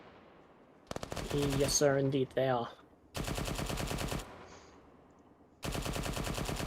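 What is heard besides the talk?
machine gun gunshots in the video game Arma 3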